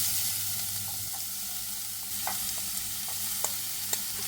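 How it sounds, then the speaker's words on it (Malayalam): Cut cabbage stir-frying in a hot pan with mustard seeds and curry leaves for Kerala-style cabbage thoran, a steady close sizzle broken by soft scraping stirs and a few sharp spatula clicks. "ഇനി ഇതിലോട്ട് നമ്മൾ കട്ട് ചെയ്ത് വെച്ചേക്കുന്ന ക്യാബേജ് ചേർത്തെടുക്കുക"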